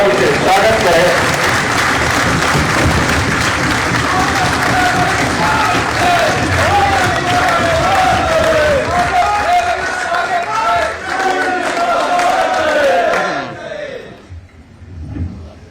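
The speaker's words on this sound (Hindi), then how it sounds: "एक बार जोरदार ताली से स्वागत करें।" An audience at an indoor political meeting applauds loudly, sustained clapping from a crowd with voices mixed in, dying away near the end.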